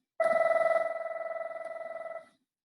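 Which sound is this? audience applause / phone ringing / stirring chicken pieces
phone ringing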